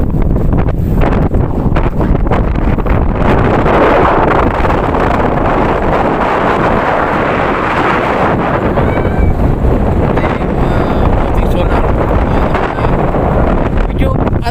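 Strong, steady wind on a lakeside baywalk in San Antonio, Bay, Laguna, Philippines, buffets the microphone in a continuous roar, with a low rumble that could be water or a boat beneath it.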